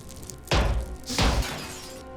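An alien in the Xenonauts strategy game smashes its way through a door, two loud crunching, shattering impacts about half a second apart, each with a brief debris tail, close and alone without talk.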